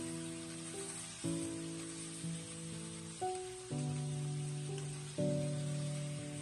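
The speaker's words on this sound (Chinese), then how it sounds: "接着再把切好的儿菜也倒在锅中，稍微的翻炒几下" Cured pork stir-fried with chopped mustard stems in a wok gives a soft, continuous sizzle that sits beneath steady background music.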